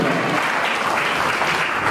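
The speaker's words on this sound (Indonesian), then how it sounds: "Beri tepuk tangan sekali bagi Tuhan" Congregation applause at a Christmas church service, a dense, steady wash of clapping that fills the whole moment, loud and close throughout with no pause.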